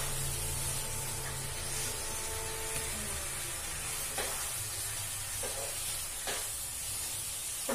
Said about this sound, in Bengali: মাংসটা একটু ভালো করে কষিয়ে নিই, তারপরে পালংয়ের পেস্টটা ঢেলে দেব।